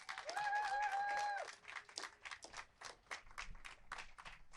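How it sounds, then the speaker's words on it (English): Scattered applause at a press conference on financial relief for the performing arts, uneven claps rising and thinning, with a brief tonal sound near the start. "Can we give her a big round of applause?"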